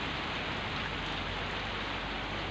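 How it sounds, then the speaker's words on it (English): Rain falls steadily on a quiet street in the early morning, a dense, even hiss of drops with no talking. "It's actually raining."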